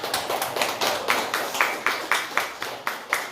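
A pair of hands clapping in a slow, even rhythm at a church Bible study, about a dozen sharp claps close by, alone without any talking.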